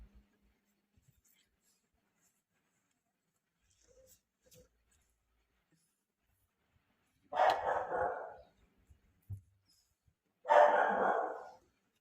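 Two separate dog barks ring out in otherwise quiet surroundings, each a short, fairly loud burst a few seconds apart.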